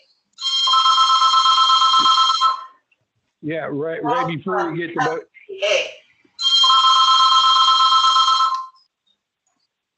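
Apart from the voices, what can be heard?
telephone ringing in a meeting room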